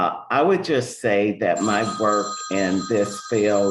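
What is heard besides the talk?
landline telephone ringing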